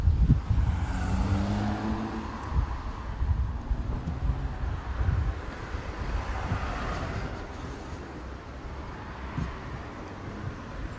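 Busy car traffic moves along a suburban street near a building site, with a steady rumble of passing vehicles and gusts of wind across the microphone that ease off toward the end.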